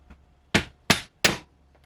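Hammer whacking a socket extender braced in a crack in concrete: three sharp, loud metallic strikes in quick succession, each ringing briefly, with faint taps before and after.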